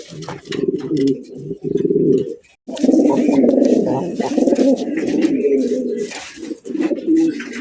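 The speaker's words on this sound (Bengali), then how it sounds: "এত বড় সাইজ কবুতর" A large fancy racer pigeon coos repeatedly at close range, deep rolling calls in several bursts with a short pause, while people talk faintly in the background.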